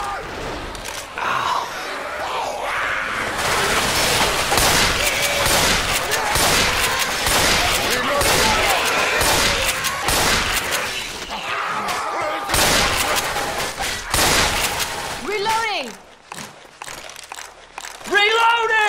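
Repeated shotgun blasts from Left 4 Dead 2 boom loudly amid dense zombie combat, a near-continuous barrage with shouted voices mixed in before the firing thins out near the end.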